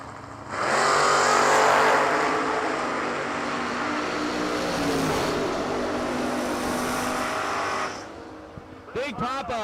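Two drag racers, an S10 pickup and a 1968 Camaro, launch side by side at a New Year Nationals drag strip, their engines roaring loud and sustained for about seven seconds before fading, followed by a few brief squeaky sounds.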